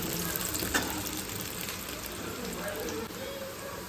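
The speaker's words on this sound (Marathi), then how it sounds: "तेल घालून मी सगळ्यात आधी बारीक कांदा कापून बारीक टाकलेला आहे." Finely chopped onion frying in oil in a pan, a steady crackling sizzle that goes on throughout, fairly close.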